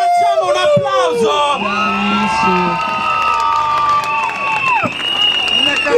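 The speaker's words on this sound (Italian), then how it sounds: "un applauso!" An excited group crowd cheering and clapping in a loud, close wash of whoops, shouts and hand claps, with overlapping voices calling out throughout.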